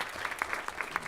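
An audience gives a student a brief round of applause, a short burst of fairly dense clapping with no voices over it.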